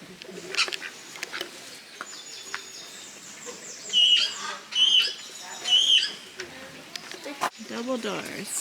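Birds in an aviary give three loud, duck-like quacking calls in quick succession midway through, with fainter chirps around them and people talking nearby.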